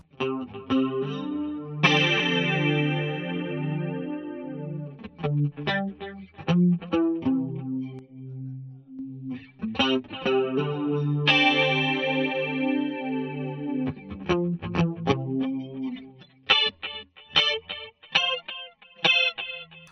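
A Guthrie Govan model electric guitar with a single coil switch, played through VP4 factory preset effects, rings out in chorus-tinged, slightly distorted chords and bright picked runs, close and continuous, with short pauses between phrases.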